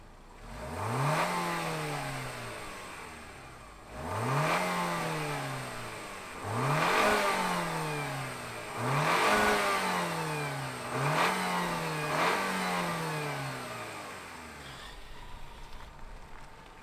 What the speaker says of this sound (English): why don't we fire up this NX350 F-Sport and hear if it makes any noise